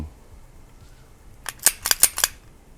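A Taurus PT99 pistol being cleared and decocked gives a quick run of five sharp metallic clicks and snaps close by, bunched within about a second after a quiet stretch.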